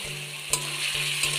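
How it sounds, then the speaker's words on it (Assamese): Chicken stirred with spices in a frying pan, a steady close sizzle with a low hum underneath and a few quick scraping strokes of the spatula, no talking. "এতিয়া মই ধুনীয়াকৈ মাংসখিনি লৰাই লওঁ। মছলাখিনি ধুনীয়াকৈ লাগি যোৱাকৈ"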